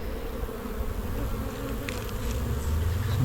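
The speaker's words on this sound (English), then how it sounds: "So I'm trying not to squish bees." Honey bees swarming around an open hive with a full honey super and brood box, a steady dense buzzing hum close by that swells slightly toward the end, with faint handling clicks and no talk.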